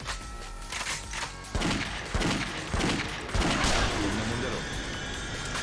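Gunfire in the zombie action game Yakuza Dead Souls: loud repeated bursts of shots and heavy thumps in an irregular rhythm, dense and continuous, with someone talking over parts of it.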